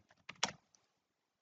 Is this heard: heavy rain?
no